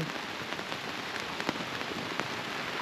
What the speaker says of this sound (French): Il pleut dans la sorte de lac.